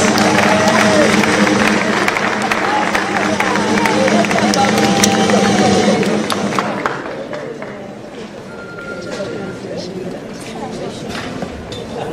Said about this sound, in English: A clap for him, please.